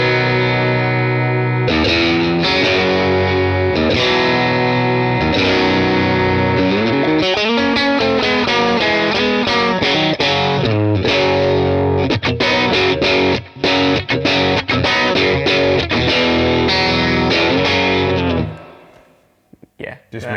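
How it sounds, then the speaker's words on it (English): Distorted electric guitar through an effects unit on a Fender Custom Shop Telecaster-style bridge pickup, played loud and continuous with sustained chords and riffs, alone, cutting out near the end. "we'll start with that Tele bridge pickup then"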